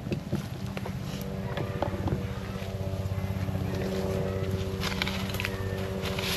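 A steady motor drone with a low humming engine tone, like a small boat running nearby, with faint wind in the background.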